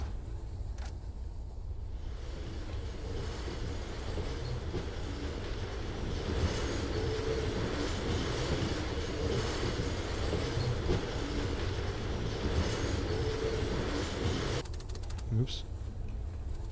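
Train wagons rolling on rails in the factory game Firmament, a continuous low rumbling roll with steady rattle, fairly even in loudness, easing off near the end.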